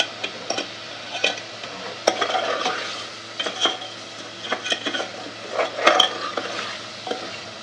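Spice masala stirred and roasted in ghee for a zucchini sabzi, with a steady sizzle under repeated scraping and clinking of a spoon against the pan, close and moderately loud, no talking.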